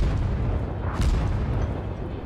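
Naval guns fire at a cruiser in World of Warships: one heavy boom strikes midway through a dense, rumbling battle background.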